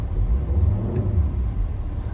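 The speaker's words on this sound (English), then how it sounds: "it's got a nice offbeat to it, a bit of a warble, because it's a 5-cylinder engine" A 2009 Volvo XC60 2.4 D5 five-cylinder diesel engine revs at close range, producing a steady low rumble with a slight uneven warble, alone and without talk.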